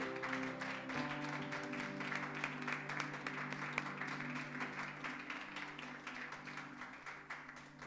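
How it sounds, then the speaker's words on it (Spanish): A church congregation applauds for the Lord during a service, with steady, fairly quiet clapping from many people over sustained organ or keyboard chords that shift early on. "Dele un aplauso al Señor"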